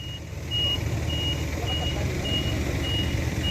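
A truck's reversing alarm beeps steadily in a regular repeating rhythm, about six beeps, over a continuous engine rumble at a site where a Hitachi EX220LC excavator control valve is being loaded.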